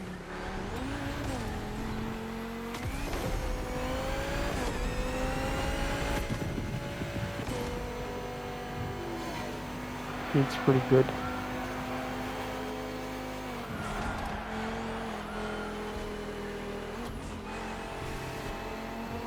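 A race car in The Crew Motorfest drives hard, its engine droning and shifting pitch as it accelerates through gears, with brief tire noise midway; a voice speaks briefly over the steady engine.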